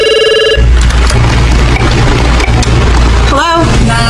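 A telephone rings in the Five Nights at Freddy's Help Wanted 2 video game, a short electronic bell tone at the start, then a loud, dense game soundscape with a steady low hum and a warbling tone near the end.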